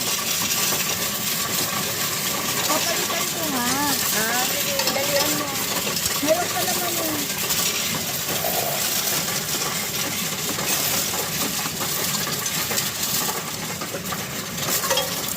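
Coins pour and rattle steadily into a coin changer machine at a Supeco supermarket in San Pedro de Alcantara, a continuous metallic clatter lasting the whole stretch, with faint voices in the background.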